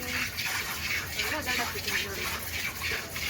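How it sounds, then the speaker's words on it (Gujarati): A buffalo is milked by hand into a pail in a village, and streams of milk hiss and splash in a quick steady rhythm, close up, with a voice talking over them. "આપણી ભેંસ દવાઈ જાય છે"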